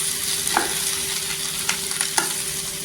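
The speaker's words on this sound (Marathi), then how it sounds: "इथे कोथिंबीर टाकल्यानंतर ती परतून घ्यायची छान अशी" Potatoes and a generous handful of coriander sautéed together in a pan for a quick potato bhaji, a steady sizzle with a few scraping stirs of the spatula scattered through.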